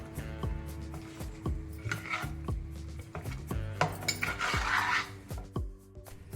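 Mutton being mixed with mint and coriander in a metal pot, with a spoon scraping and clinking against the sides in an uneven rhythm, close up and without talk.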